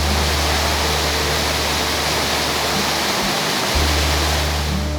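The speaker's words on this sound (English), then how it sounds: "Here's the upper falls from the top." Little Mashel Falls upper falls, a waterfall seen from the top, roars as a loud, steady broadband rush of falling water that fills the whole stretch without a break.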